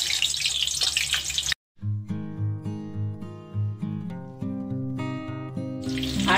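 Halved potato pieces hit hot mustard oil for a mutton curry, giving a brief hissing sizzle at the start and again at the end, with melodic music filling the middle.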